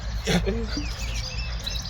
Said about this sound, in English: Birds being noisy. Blackbird.